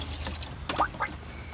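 Water running through a boat's freshwater plumbing with the pressure switched on, a quiet gurgling splash with a few brief bubbly spurts and no one talking.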